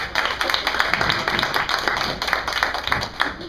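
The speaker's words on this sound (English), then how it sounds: "Round of applause!" Audience applause rings out as a volunteer is called up onto the stage, a steady dense patter of many hands clapping throughout with no voices over it.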